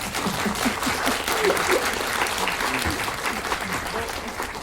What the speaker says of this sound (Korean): 큰 박수를 맞이해 주십시오.